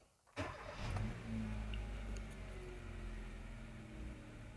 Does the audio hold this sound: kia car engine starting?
yes